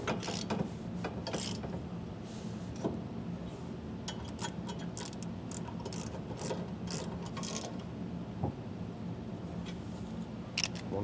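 A hand ratchet with a 3/4 inch socket tightening nuts down onto split washers on a 2023 Ford truck gooseneck trailer hitch install, quick clicking pawl strokes in uneven bursts over a steady low background.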